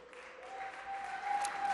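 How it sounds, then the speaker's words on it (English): Crowd applauding during a governor's budget address at a state capitol, a faint, distant wash of clapping that swells slightly, with a steady tone running underneath. "you may want to hold your applause for a sec"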